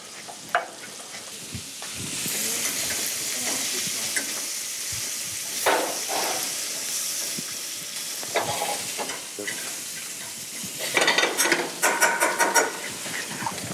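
Horn of plenty mushrooms with finely chopped shallots cooking in a pan, a close sizzle and hiss broken by several scrapes and stirring knocks, with a busier burst of clatter near the end and no speech.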